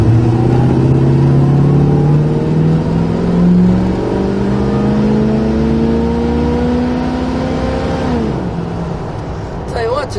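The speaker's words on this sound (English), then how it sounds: "it ran up to 60-some mile an hour real quick without really horsing it hard" A 1976 Dodge Charger V8 engine revs and climbs steadily in pitch as it accelerates, loud and close, then drops briefly as it shifts gear.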